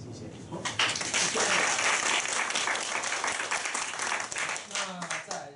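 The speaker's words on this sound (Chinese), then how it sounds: "我们这边来掌声欢迎" An audience at a two-minute self-introduction meetup breaks into steady, full applause that swells after the first second and keeps going, with speech faintly mixed in toward the end.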